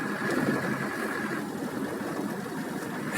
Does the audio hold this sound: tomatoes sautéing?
no